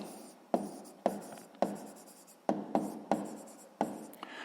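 Pen or pencil writing out a sixth-grade math solution on paper, a series of about seven distinct scratchy stroke bursts separated by brief pauses, close and fairly quiet with no talking.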